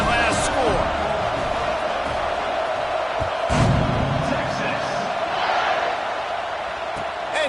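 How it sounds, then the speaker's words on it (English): Steady stadium crowd roar from a College Football 26 game after a score, a continuous loud buzz with a few louder swells and thuds, with commentary voices over it. "this crowd is buzzing after that last score"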